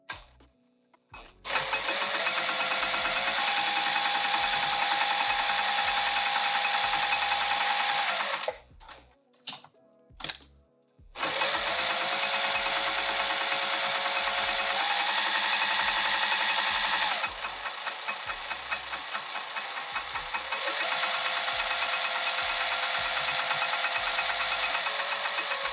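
A sewing machine stitches a fabric bag with piping in long, steady runs of rapid mechanical whirring, broken once by a brief stop-and-start pause before running on nearby at a constant pace.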